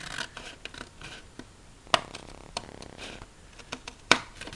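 Scissors cutting folded paper at a crafting table, a few quiet, irregular snips and rustles with two sharper clicks, close and faint.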